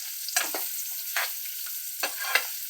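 Banana pieces stirred in hot oil with curry leaves, a steady sizzle broken by four or five scraping strokes of the spoon at uneven intervals, close and fairly loud with no talking.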